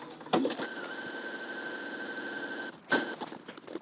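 A sewing machine runs a steady stitching pass for about two seconds along a garment side seam, reinforcing it an eighth of an inch inside, with short clicks and handling sounds before and after a brief second burst.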